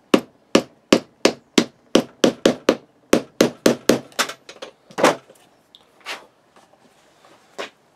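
A screwdriver forces a rivet down into a leather sheath for a seax: a rapid series of sharp, close tapping impacts in a quick steady rhythm, thinning out into a few scattered knocks toward the end.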